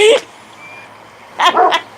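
Dogs bark in two short bursts, one at the start and a double bark near the end, loud and close against a quiet background.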